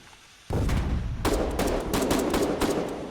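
Gunfire in the Foxhole war game: after a quiet start, sharp repeated shots and bursts crackle loudly in quick irregular volleys, with bangs layered over one another.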